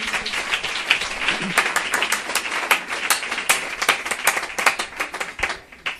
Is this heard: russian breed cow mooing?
no